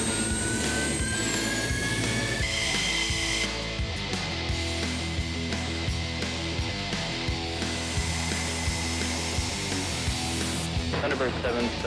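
Jet engine of a Thunderbird aircraft on the flight line, a loud steady roar with whining high tones, joined by rising turbine pitch, with voices talking over it.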